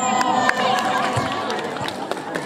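An audience claps and cheers for a performer coming on stage at a music program, a dense crowd of applause and shouts with a voice speaking over it.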